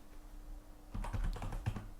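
Keys clatter on a computer keyboard as a file name is typed, a quick burst of close, crisp clicks following a quiet pause.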